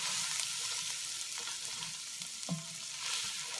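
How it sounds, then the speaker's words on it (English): Chicken paprikash is stirred in a pot, giving a soft, steady sizzle with faint scraping and a brief clink near the end, close up and with no talking. "I'm going to stir that around just to get it all incorporated."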